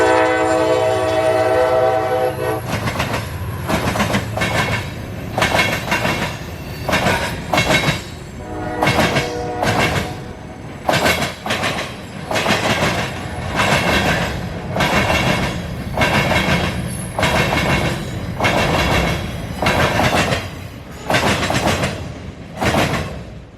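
A local freight train rolls past on the Yeoman subdivision north of Plant City, Florida, opening with a long, loud horn blast before a steady close rumble and rhythmic wheel clatter fill the rest of the pass.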